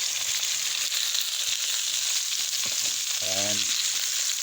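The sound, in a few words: beef browning in a pan for Hungarian goulash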